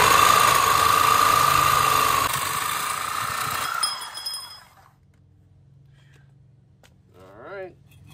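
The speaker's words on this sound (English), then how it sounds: "I'm gonna be using a sawzall here" Sawzall reciprocating saw cutting through a motorcycle front fork tube on an X-Pro Templar 250, a loud steady buzzing grind for about four seconds that winds down and stops, followed by near silence and a brief faint voice.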